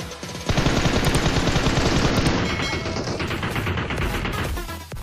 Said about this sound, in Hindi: अब देखो मैं रैंडम फायर देता हूँ